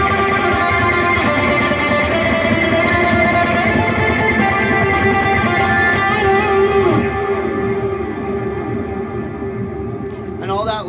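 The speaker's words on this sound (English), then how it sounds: "the third patch is actually my saturated delay sound" Electric guitar through a saturated delay patch with a Boss delay, sustained overdriven tones that smear into echoing repeats and a strange swelling wash behind them, loud and continuous before thinning toward the end, no talking.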